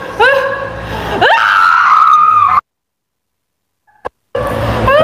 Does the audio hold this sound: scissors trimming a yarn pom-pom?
no